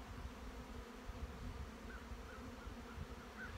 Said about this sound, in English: Just standing here and listening to that healthy buzz.